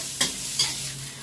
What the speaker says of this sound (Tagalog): First, saute the garlic and the onion. And then the meat.